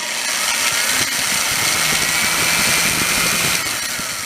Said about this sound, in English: we're drilling our first holes with the drill press